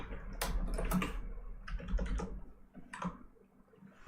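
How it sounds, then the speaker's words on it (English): Close-up clatter of keys on a computer keyboard, irregular taps and short bursts of typing with brief pauses, no voices. "Typing this in the room."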